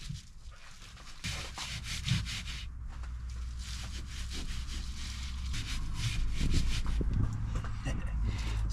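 Carpet is rubbed by hand onto sprayed adhesive on the metal panels inside a Ford Transit Custom van, producing a steady, close brushing scrape that continues throughout the clip and grows slightly louder toward the end.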